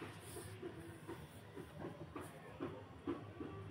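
A bay leaf torn in two and dried red chilies frying in hot oil for a banana flower dish, a steady sizzle dotted with small pops and crackles, close and continuous with no talking.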